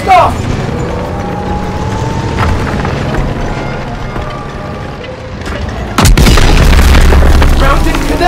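In Call of Duty WW2, a tank cannon fires and strikes its target with a loud, close boom over a steady rumbling engine and battle noise, while voices shout.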